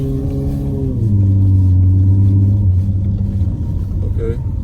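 A V6 Dodge Charger fitted with a pedal box revs and accelerates, a loud, close, rising and falling engine rumble with steady low drone throughout and no talk.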